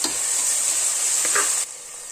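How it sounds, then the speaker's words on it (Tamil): Mint and coriander leaves being sautéed for vegetable biryani, a steady close sizzle of frying with a few stirring scrapes that eases off near the end. "இப்போ இதோட ஒரு கைப்பிடி அளவு புதினா, ஒரு கைப்பிடி அளவு மல்லி இலை, இதையும் நல்லா வதக்கிக்கலாம்."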